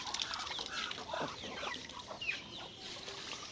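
Chinese geese honk and call in a busy, overlapping flock, fairly close and steady throughout.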